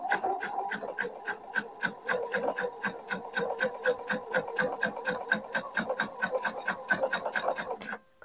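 A sewing machine stitches a fabric strip onto a girl's dress, its needle clattering in a fast, even rhythm. The close stitching runs steadily with no talk and stops near the end.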